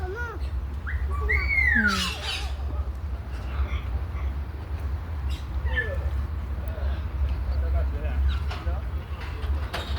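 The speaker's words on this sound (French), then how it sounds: "nous allons voir maintenant nos amis qu'on appelle les flamants roses" Pink flamingos at a zoo give a few sharp squawks and honks early on, with softer calls later over a constant low hum.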